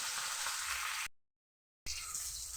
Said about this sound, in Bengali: মাছটা দেখতে পাচ্ছি ভালোভাবে ভাজা হয়ে এসছে, মাছটাও নামানোর সময় হয়ে এসেছে।